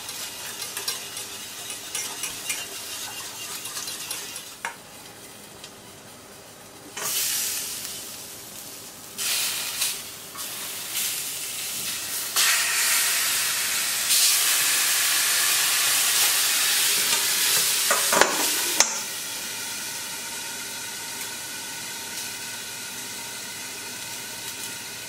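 A pastis cream sauce for grilled lobster bubbles and reduces in a pan, a close soft sizzle and hiss broken by stirring scrapes and bursts of louder steam, easing back to a gentle simmer.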